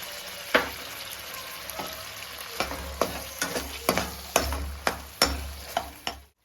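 Sauce goes into frying egg chilli and is stirred through with a spatula, giving a string of sharp scraping knocks against the pan, growing more frequent, over a low background sizzle.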